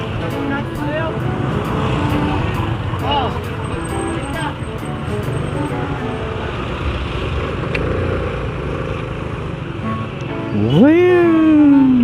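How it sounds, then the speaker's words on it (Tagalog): Steady road traffic with a continuous engine and tyre rumble from passing vehicles, loud and close, with voices talking over it and a rising horn-like tone near the end. "Traffic."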